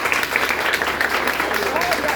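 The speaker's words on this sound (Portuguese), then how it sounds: "Aplauda Jesus" A church congregation claps during a service, a steady, fairly loud wash of many hands mixed with voices calling out over it.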